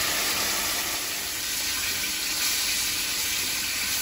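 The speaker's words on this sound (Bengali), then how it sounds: "সবজিটা সুন্দর ভাজা হয়েছে, এবার জল দিয়ে দেবো।" Water poured into a pan of frying vegetables, kohlrabi and potato, for a curry, a loud, steady hissing sizzle and rush that continues for several seconds without a break.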